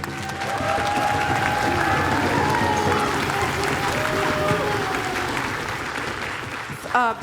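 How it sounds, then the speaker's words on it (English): An audience at a dance celebration applauds young drummers with a full, continuous wash of clapping mixed with crowd noise and some cheering, while voices and tonal sounds carry through beneath it. "I'd love to just have a round of applause for these young people"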